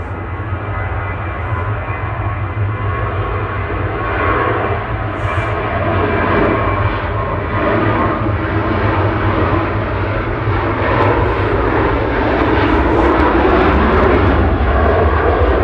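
Jet airliner on flight 5271 to Barcelona departing Manchester Airport, a steady broad engine roar that holds loud and continuous throughout with a slight swell toward the end.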